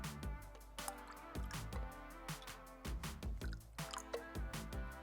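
A drink is poured into a cup in short bursts, soft close splashes and drips with pauses between them, quiet and alone without talk.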